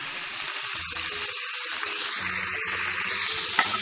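Goat liver pieces fry in a hot pan with a steady, close sizzle and occasional stirring scrapes, with some watery crackle and no talking.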